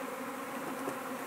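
Worker bees buzzing around hive frames on an urban rooftop, a dense, steady hum close by with no voices.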